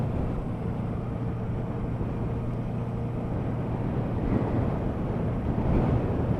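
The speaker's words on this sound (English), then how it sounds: "I just hope you can hear the engine now." 1976 Honda 400-4 motorcycle engine droning steadily while riding, a moderate hum partly buried under heavy wind blast across the microphone, with no talk.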